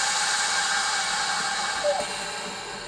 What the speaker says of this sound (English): Now it's sealing it. I'm gonna take the air out.